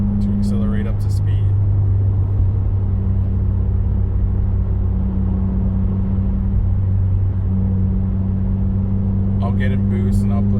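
A 2017 Subaru WRX with a boost problem is pushed hard in third gear, heard from inside as a loud, steady low engine drone and road rumble for about ten seconds with no clear rise in pitch.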